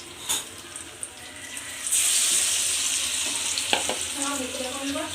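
Eggplant fritters coated in rice flour frying in a pan: steady bubbling sizzle that swells as the pieces go in, with a few sharp clinks and stirring scrapes close by.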